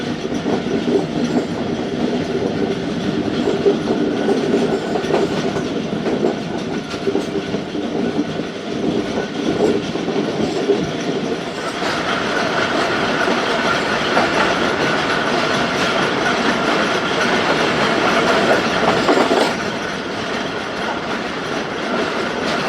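Zakariya Express train running steadily on the rails past Saja railway station, a continuous close rumble and clatter of wheels and wagons that swells louder partway through with no talk.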